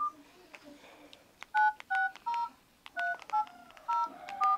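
Mobile phone keypad tones as a number is dialed: a series of about nine short beeps in an uneven rhythm, each clear and close, with quiet talk and soft handling noise in between.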